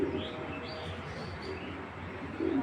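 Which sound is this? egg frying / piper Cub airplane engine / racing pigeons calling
racing pigeons calling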